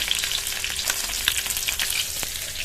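Rohu fish pieces fry in hot oil, a steady close sizzle with scattered crackles and pops and no voices.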